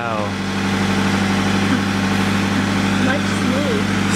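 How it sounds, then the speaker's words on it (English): A Toyota FR-S engine idles nearby with an even, smooth drone and a slight vibration, while a voice talks briefly over it at the start. "I went ahead, turned on the car, let it run for a bit"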